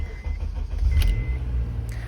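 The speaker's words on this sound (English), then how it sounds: "Now I start up the car." A car engine turns over and settles into a low, steady idle rumble close by, with a couple of brief clicks on top and no voices.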